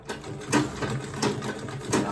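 Manual sewing machine stitching an Ankara fabric tote bag, a steady close rhythmic clatter with three stronger pulses over about two seconds.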